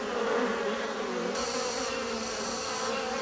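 Giant hornets buzz in a dense, continuous swarm at an underground nest in a city, a loud steady drone that thickens with added higher whine partway through, with no voices.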